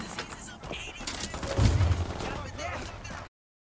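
Squad gunfire erupting in Ghost Recon Wildlands, a cluster of shots and one heavy booming report mid-clip over outdoor combat ambience, cutting off abruptly near the end.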